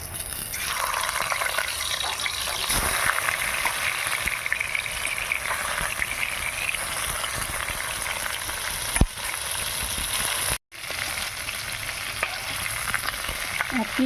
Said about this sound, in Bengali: এবার মাছ দিয়ে দিচ্ছি তেলে।